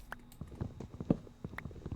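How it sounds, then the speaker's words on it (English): Horses in a video game give soft, irregular clip-clop hoof thuds at a moderate distance, quiet and scattered over a faint background. "There's horses over there."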